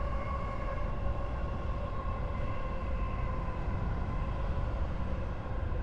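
A train rolls by steadily in Train Simulator Classic on Tokyo's Tohoku and Utsunomiya commuter lines, a constant low rumble of wheels with sustained tonal whine layered above, even and unbroken throughout.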